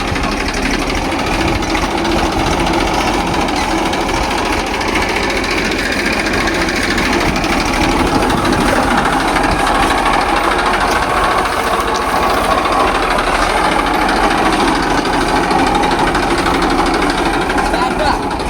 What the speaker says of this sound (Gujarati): મારો તો મિત્રો આપણે પણ ટ્રેક્ટર ઉપર